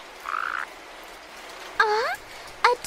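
A toad croaks in a kitchen, with a short buzzing call followed by two louder, rising croaks near the end, clear and close against a quiet background.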